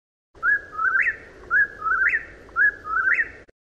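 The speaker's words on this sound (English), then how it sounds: "Whippoorwill." Whippoorwill calling three times in a regular rhythm, each a clear, close, whistled three-part phrase rising at the end, heard alone without other sounds.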